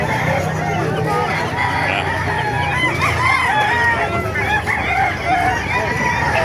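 Several roosters crow repeatedly over constant clucking and a murmur of people talking nearby at a chicken market in Calumpit, Bulacan, a busy and noisy gathering of fowl.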